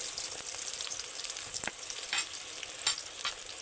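Chopped onion frying in hot oil in a wok, a steady close sizzle with occasional scraping stirs breaking through, no voices.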